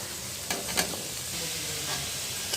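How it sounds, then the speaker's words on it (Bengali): Carrot and papaya pieces added to a frying pan, a steady close sizzle broken by a few soft clatters and scrapes as the vegetables go in and are moved around. "এবারে এখানে সবজিগুলো একে একে দিয়ে দেবো"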